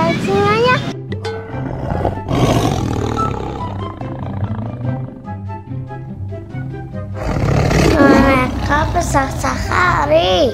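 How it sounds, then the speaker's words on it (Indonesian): Tiger-like roars in a children's dinosaur chase story, loud and repeated across the clip, rising strongly near the end, with children's voices and music mixed underneath. "Suara apa itu? Kayak suara macan."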